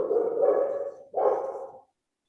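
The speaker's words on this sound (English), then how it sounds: "My dog is barking at the FedEx person." A dog barks at a delivery person at the door, two deep, drawn-out barks close to the microphone, the second shorter, then silence.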